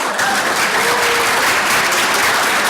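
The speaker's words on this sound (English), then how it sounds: "If we could please just hold our applause till the end." An audience claps steadily for an honoree at an awards ceremony during a town Ramadan iftar celebration in Hempstead. The dense, even applause runs without a break and stays loud throughout.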